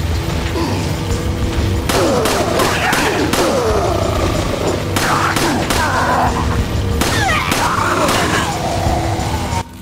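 Video game gunfire erupts in loud, sharp bursts and rapid volleys over a continuous rumbling backdrop, with clusters of shots recurring every couple of seconds.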